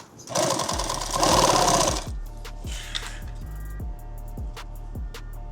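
A sewing machine stitches fabric for a custom bag, starting with a loud whirring burst of fast needle strokes, then settling into slower, evenly spaced mechanical thumps up close, with no one talking.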